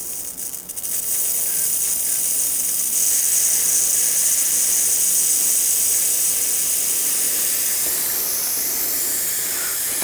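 A sprayer sends out water in a steady, loud hiss that runs unbroken for about ten seconds, close by, with no talking over it.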